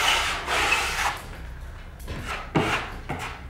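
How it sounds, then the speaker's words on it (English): A drywall trowel scrapes excess joint compound off screw holes on a gypsum board wall, several close, gritty strokes separated by short pauses. "Taking most of the joint compound off,"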